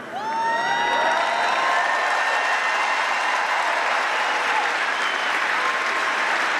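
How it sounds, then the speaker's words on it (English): A stadium crowd and athletes at the Commonwealth Games closing ceremony applaud steadily, dense clapping with some cheering and whoops, loud and sustained throughout. "the athletes who are applauding her"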